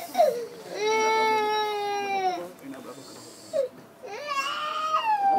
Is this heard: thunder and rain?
no